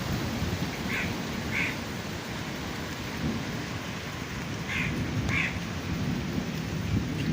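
A steady downpour with thunder in a village, a constant rushing wash of rain striking surfaces nearby, with a few brief higher calls breaking through and no talking.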